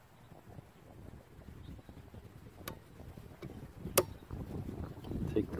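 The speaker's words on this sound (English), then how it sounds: "Got a little bit of wind." Wind blowing outdoors at a field target range, a low rumbling buffet against the microphone that swells toward the end, with a few faint clicks.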